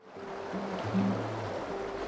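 A fast-moving small stream gives a steady, close rushing and gurgling wash. A low tonal hum sits underneath, and no one speaks.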